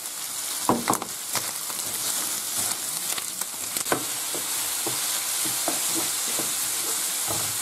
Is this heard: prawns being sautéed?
yes